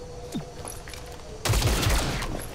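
Burst of rapid gunfire from a volley in XCOM Chimera Squad erupts suddenly after a quiet stretch, loud and dense, with heavy impacts and booms continuing to the end.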